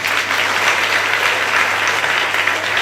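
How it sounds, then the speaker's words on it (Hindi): Audience applause, steady and dense, at a fairly loud level, with no speech over it. "शाम के बाद में तालियां कमजोर हो गई है लगता है"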